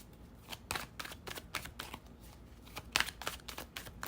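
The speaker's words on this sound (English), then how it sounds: "Let's shuffle." Rapid papery riffling and soft flicks of tarot cards being shuffled, close and fairly quiet, in repeated bursts with a brief louder snap near the end.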